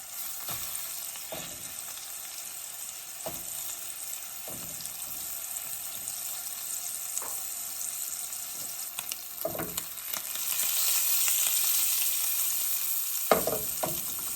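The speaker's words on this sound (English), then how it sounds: "I'm just going to go ahead and place my tuna steaks in here." Tuna steaks sear in a hot frying pan with a constant bright sizzle that swells louder toward the end, dotted with occasional clinks and taps of utensils.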